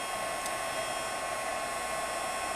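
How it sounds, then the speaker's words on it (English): A heat tool blows a steady, even whir of hot air close by while melting a thick layer of embossing powder, droning continuously with no talk. "you'll notice as your heat tool heats up more, it goes a little bit faster"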